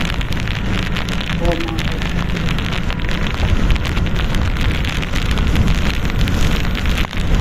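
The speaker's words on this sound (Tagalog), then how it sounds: "Pero patuloy pa rin yung Bagyo Christine, ang ulan hanggang ngayon, patuloy pa rin." Heavy typhoon rain from Typhoon Kristine pours steadily on a roadside. The downpour is loud and continuous throughout, a dense hiss with no break.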